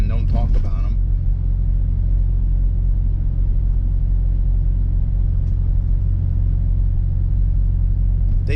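A Dodge Durango with a BlastinBobs exhaust gives a steady, deep low rumble and droning hum, close and continuous, with a brief voice at the very start.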